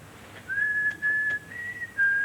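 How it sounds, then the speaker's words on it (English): A person whistles a short tune in clear, sustained high notes, broken into a few phrases with brief gaps, fairly close and alone without speech. "Whistle. It works like a charm with children."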